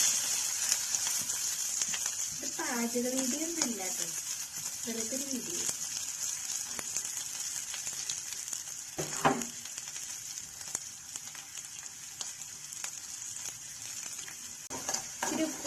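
Onion and green chili sauté in oil in a hostel kitchen, a steady close sizzle that runs through the whole stretch with occasional stirring knocks, while a person talks briefly early on.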